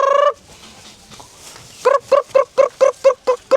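Chickens being fed cluck in a rapid run of about ten short, loud, close calls, following one opening squawk and a quieter pause.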